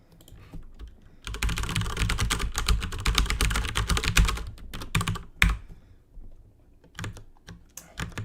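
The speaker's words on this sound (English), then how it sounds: "Maybe this is as much keyboard as we will hear today." Rapid keyboard typing, close and clear, in a dense burst of clicking keys followed by scattered individual keystrokes and pauses.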